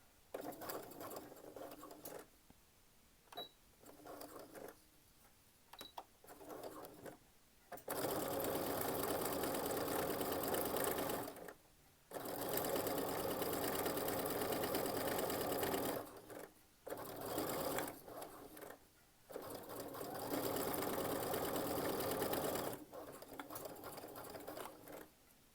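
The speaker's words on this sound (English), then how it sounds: "Lower my foot and we'll sew the top of the channel." A sewing machine stitches the top of a channel on a fabric wine bottle gift bag, running in several loud bursts of a few seconds each, separated by quiet pauses.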